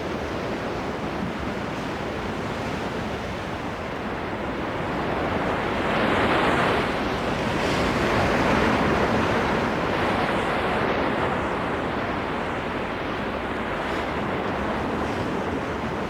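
Wind-driven ocean swell rolling over the open Pacific, a steady broad wash of surf and water with wind noise, swelling louder near the middle and easing slightly toward the end, no voices.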